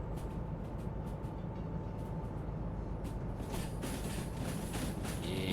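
A long heavy freight train rumbles steadily along the track in the Derail Valley game, a constant close, dense roar with faint higher metallic hiss growing toward the end.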